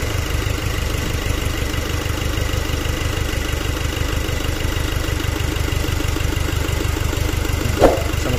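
A turbocharged engine runs at a steady idle, a dense, even low rumble close by and unbroken, with one small knock near the end.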